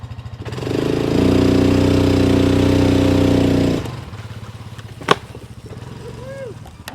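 Engine of a 2020 Cub Cadet Challenger MX 750 EPS utility vehicle in four-wheel drive pulls hard with a loud steady drone for a few seconds, then drops to a lower idle with a sharp knock.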